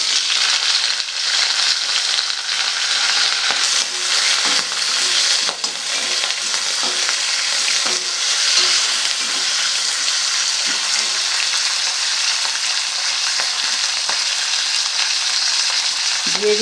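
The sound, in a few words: washed flat beans added to pan with black cumin, frying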